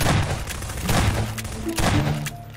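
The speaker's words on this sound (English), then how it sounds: "I think I gotta shoot at it." Gunshots in the Garry's Mod horror game, a few heavy booming shots in quick bursts, loud and close, with game tones and a musical drone underneath.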